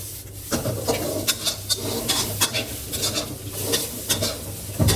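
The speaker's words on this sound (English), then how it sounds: "Add the green onion and continue tossing." Ramen noodles and green onion stir-fried in a hot pan for Thai Pad Mama, a steady sizzle with rhythmic scraping and tossing clatter of utensil against the pan, close and fairly loud.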